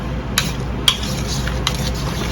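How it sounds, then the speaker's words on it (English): Canned vegetables being mixed together in a bowl for homemade veggie nuggets, a few sharp utensil clinks against the bowl over a soft continuous stirring rustle, nearby and without speech. "you're just gonna kind of like mix them together"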